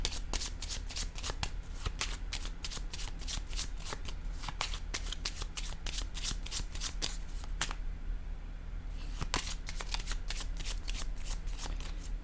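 Kepler oracle cards being riffled and shuffled in a steady run of crisp, close flutters, with a short pause near the end before the shuffling resumes.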